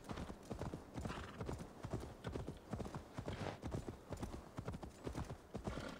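Steady, rhythmic hoofbeats of a galloping horse in Assassin's Creed Valhalla, clip-clopping continuously at a brisk pace with a constant background hum.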